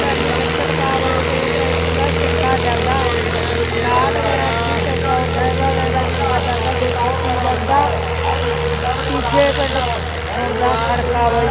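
At a village fair's trolley-pulling contest, a tractor engine drones low and heavy, loud and continuous, under crowd chatter and voices.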